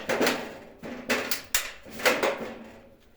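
A power drill whirs in several short bursts, each followed by a sharp click or knock as a self-tapping screw is driven in, close and fairly loud.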